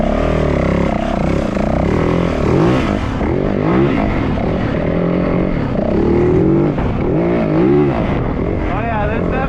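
An uncorked Yamaha WR450F dirt bike engine revs and burbles steadily up close on a slope, its throttle rising and falling, with someone talking over it throughout.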